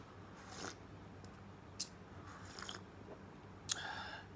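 Black seed (habbatus sauda) capsules being chewed close to the mouth, with a few sharp crunchy bites spaced apart over quiet background, no talking.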